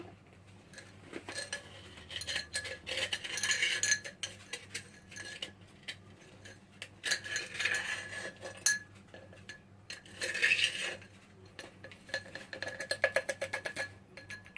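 A tablespoon scoops sugar into a dish for microwave-cooked nikujaga, giving light clinks and scrapes of metal against ceramic in scattered bursts, close and moderately soft with no talking.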